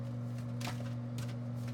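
Tarot cards are shuffled by hand in soft papery riffles and slides, faint and close, over a steady electrical hum.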